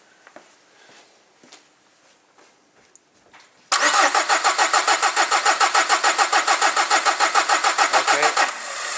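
A diesel engine cranks during a common rail high-pressure test, the starter churning in a steady rapid rhythm for about five seconds after quiet shuffling sounds, then stopping.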